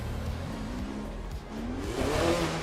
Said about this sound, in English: This is a good sounding car.